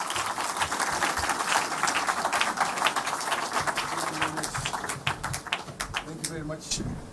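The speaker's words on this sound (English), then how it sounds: "Round of applause once again." An audience applauding at a political rally in Kenya, a continuous dense clapping from a crowd heard at moderate level with talking running beneath it.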